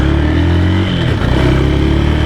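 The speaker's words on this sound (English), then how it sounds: "we get up to speed, 50 kilometers an hour, front brake." A 2007 Honda FTR 223 motorcycle braking hard with the front brake from about 50 km/h, its loud close engine hum dipping as it slows and then running on steadily.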